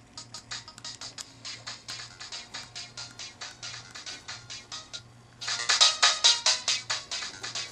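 Loud game sound effects from Shark Tale on the Game Boy Advance: a fast run of repeated electronic chirping pulses that jumps noticeably louder and brighter partway through.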